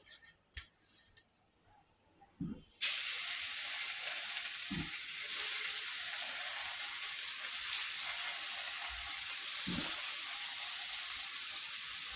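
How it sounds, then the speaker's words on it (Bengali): Fish dropped into very hot oil bursts into a loud, steady sizzle after a few soft clinks, frying continuously and close by with occasional knocks of utensils underneath. "আমার তেলটা অনেক গরম হয়ে গেছে। এখন আমি মাছগুলো ছেড়ে দেব।"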